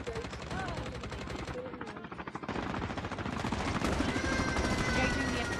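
Loud, rapid automatic gunfire from a battle royale video game rattles in sustained, close bursts throughout, with other game effects mixed in and a voice partly under the shooting.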